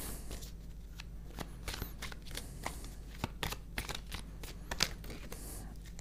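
Tarot cards being shuffled and drawn by hand, a close, quiet run of rapid riffling flicks and soft slaps in an irregular rhythm with light rustling between them, no talking.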